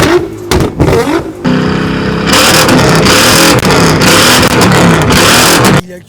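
A car accelerating hard at a Crazy Racer motorsport event, a loud close engine roar that rises and holds steadily for several seconds before cutting off abruptly.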